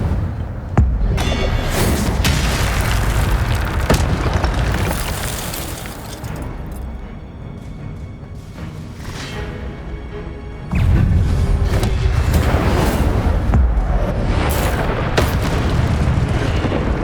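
Incendio fire spells blasting in the video game Hogwarts Legacy, heavy booming bursts with crackling debris that come in loud waves, dipping midway before surging again near the end.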